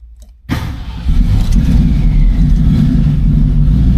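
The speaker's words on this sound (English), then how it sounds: "That's a cold start." A 1965 Ford Mustang engine cold-starts: a brief crank cuts in after a moment of quiet, then the motor catches and settles into a loud, steady rumbling idle up close, with no talking.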